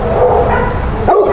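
Dog barking at a fence line on a ranch, a loud close-up burst of barking and yipping lasting about a second, heard alone.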